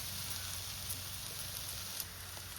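Coconut oil poured over a pan of wild pevga leaf vegetable curry sizzles steadily, a soft even crackling hiss that holds throughout at close range without talk.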